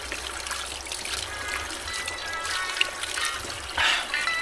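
River water trickles and gurgles continuously at moderate volume, with a brief louder splash near the end and no voices.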